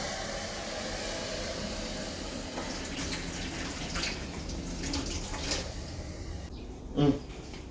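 Water poured out of a kettle splashes into a sink, with a couple of louder gushes and a brief clatter near the end.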